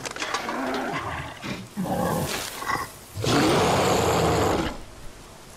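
A bear roaring in the video game Days Gone, three loud, close bursts of deep growling roar separated by short pauses.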